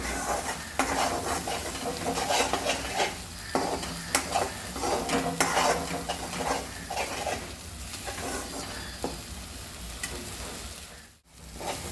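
Masala paste fries in a little oil while a spoon stirs and scrapes it around the pan, a moderate crackling sizzle with frequent metallic clinks, ending in a brief quiet gap, with no one talking.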